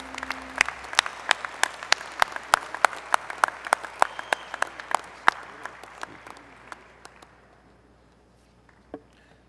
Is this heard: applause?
yes